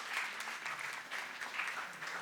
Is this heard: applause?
yes